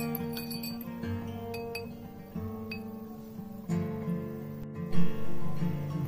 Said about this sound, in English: A metal coin is made of pressed metal and I'm stirring it.